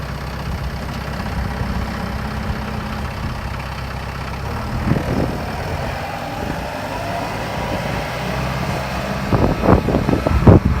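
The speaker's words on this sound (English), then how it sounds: "So I'm going to use a tractor to go get those guys." A tractor engine idles steadily on a farm, making a loud, close, even rumble with a few louder bursts toward the end.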